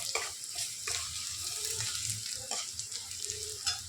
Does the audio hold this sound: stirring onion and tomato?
yes